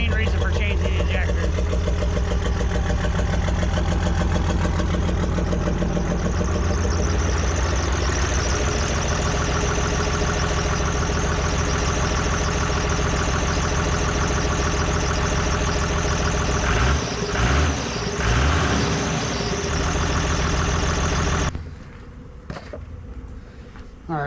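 A 5.9 Cummins diesel swapped into a square-body Chevy idles with a steady, loud, low knocking rumble for about twenty seconds before the engine note suddenly drops away near the end.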